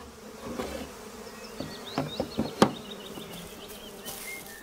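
Honey bees buzz steadily around a hive, with several individual insects passing close by in brief louder swells over a constant low drone.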